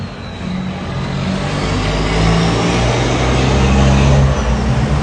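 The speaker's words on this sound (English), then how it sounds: "Sorry for the loud trucks going by." Heavy trucks rumble past on a city street in Santo Domingo, a loud, continuous low engine drone that swells as they go by, with no talking over it.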